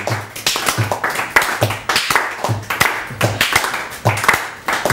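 A seated audience claps harder in time with their own pulse, producing loud, sharp, slightly uneven hand claps in a steady rhythm of roughly two per second that fill the room without any voices.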